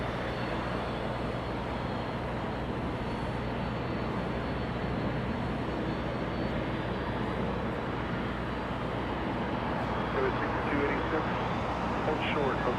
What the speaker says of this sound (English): trying to catch up to that Dreamliner, getting a move on, lifting off